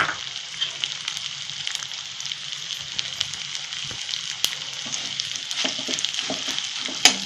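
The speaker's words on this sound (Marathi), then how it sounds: "याप्रमाणे मी सगळा डिंक तळून घेते." Pieces of edible gum (dink) fry in hot oil in a pan for Marathi-style methi ladoo, a steady close sizzle and crackle with occasional sharp pops and stirring clinks, no talk.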